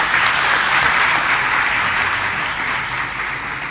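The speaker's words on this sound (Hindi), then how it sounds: "बजाओ जोर से ताली।" A crowd at a Jain religious discourse bursts into loud, sustained applause, a dense wash of clapping that stays strong throughout and eases only slightly toward the end.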